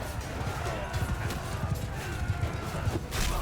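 Horse hooves pound in Mount & Blade II Bannerlord, a steady clip-clop of galloping under a busy wash of game noise and combat, with a voice talking over the action.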